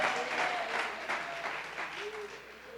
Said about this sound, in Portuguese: Você quer aplaudir, aplauda o Senhor.